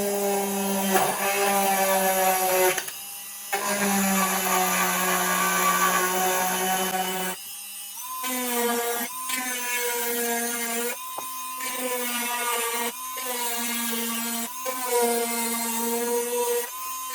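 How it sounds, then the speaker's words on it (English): A rotary cutting bit in a high-speed tool trims a model A-6 Intruder canopy, whining loudly and steadily in sustained passes broken by brief stops, with the pitch dropping under load in the later strokes. "I'm going to use this cutting bit, go within about 1/16"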